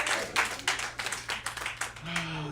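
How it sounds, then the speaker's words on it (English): An audience at a comedy show gives a brief round of applause for sister Amy, with the claps coming in quick uneven bursts before they fade as a voice resumes. "please give her a round of applause for putting up with me forever"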